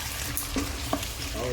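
Pork kaldereta fries in a pan with a dense, close sizzle. A utensil scrapes and clinks against the pan a few times as it is stirred.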